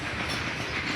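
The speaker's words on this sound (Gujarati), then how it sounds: "પાછળ એન્જિન હોય ને જો હવે પૂરી થઈ છે જો એવડી મોટી ટ્રેન હતી" A long train with an engine at the rear rolls past close by in a brief, loud, continuous rumble of wheels on track.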